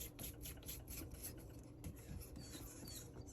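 Close, quiet, continuous rasping from sanding a homemade hooded fountain pen nib, with rapid back-and-forth strokes and no pauses; no talking.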